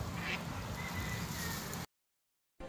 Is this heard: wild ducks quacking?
yes